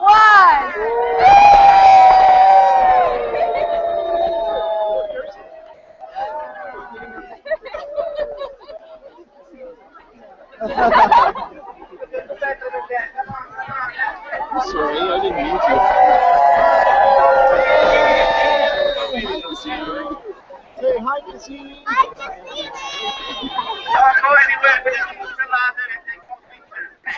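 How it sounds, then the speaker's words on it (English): Spectators gathered outdoors for a spacecraft photo event cheer and whoop loudly in bursts, with lively chatter and shouting rising and falling between the cheers. "So we have quite a crowd out here."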